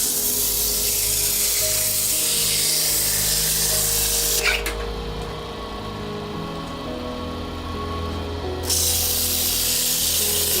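Loud continuous power sanding with 120 grit sandpaper on a shop clock project, a steady abrasive whir that briefly lifts and changes pitch midway before resuming, close and unbroken by speech.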